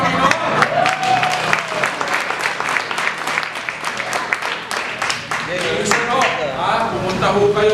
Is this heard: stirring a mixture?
no